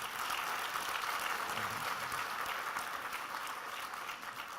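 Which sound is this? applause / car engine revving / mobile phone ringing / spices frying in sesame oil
applause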